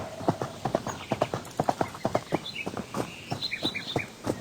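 Horse hooves clip-clop in the video game Horse World, a brisk, steady run of close, crisp hoof strikes, with faint bird chirps joining toward the end.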